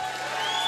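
Crowd cheering and applause for Lithuania at the FIBA 3x3 Europe Cup 2025 basketball finals, a steady, fairly loud wash of voices that swells slightly toward the end.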